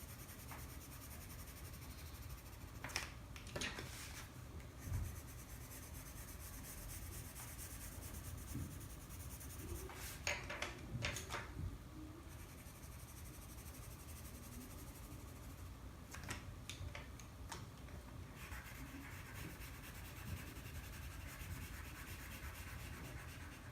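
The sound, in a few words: coloring in a drawing of shoes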